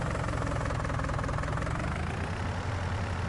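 Tractor engine in the video game Farming Simulator 19, a steady low diesel rumble with a knocking idle texture, loud and continuous with no voices over it.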